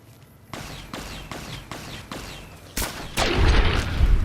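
Gunshots in Fallout New Vegas: a steady series of evenly spaced sharp shots, each with a quick descending tail, followed by a louder crack and a heavier, rumbling burst of fire.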